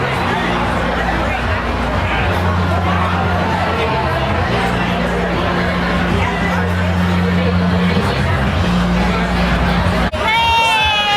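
A lively crowd at a pub party on St. Patrick's Day fills the space with a constant babble of chatter, shouts and occasional cheers, with people talking close by over the din.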